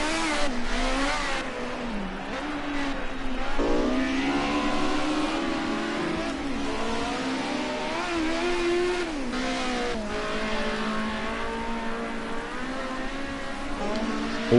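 Group A touring cars racing at the Sonoma GP circuit, engines roaring and revving continuously with rising and falling pitch as they pass, loud and steady throughout.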